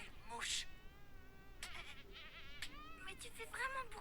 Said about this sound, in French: Mais Il y a une mouche.